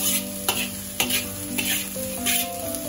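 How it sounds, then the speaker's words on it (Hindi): Vegetables for chilli garlic noodles sizzle hard over a high flame while a utensil stirs and tosses them in regular, close knocks roughly every half second, with no voice heard. "बिल्कुल इसे ऐसे सॉटे करना है हाई फ्लेम पे।"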